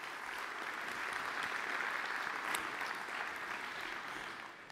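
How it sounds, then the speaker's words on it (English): A conference audience applauds in the DrupalCon Europe 2024 wrap-up auditorium, with dense, steady clapping from a large crowd that holds at an even level throughout and softens slightly at the end. "So give yourself a round of applause"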